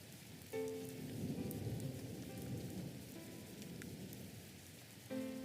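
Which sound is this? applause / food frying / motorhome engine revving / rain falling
rain falling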